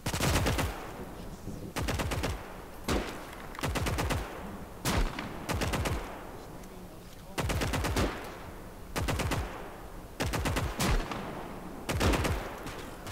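Machine-gun and anti-tank gun fire from a trench line in the Gates of Hell strategy game, with repeated bursts of rapid shots and heavy single reports, loud and close, falling in uneven waves throughout with no talk.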